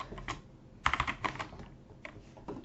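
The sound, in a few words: typing on a computer keyboard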